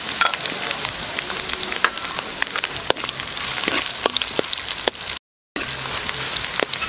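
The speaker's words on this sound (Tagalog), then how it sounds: "Lalagay na tayo ng sibuyas." Onions and garlic frying in a pan for squid menudo, a dense close crackling sizzle with scattered pops and stirring scrapes, a brief dropout near the end, no talking.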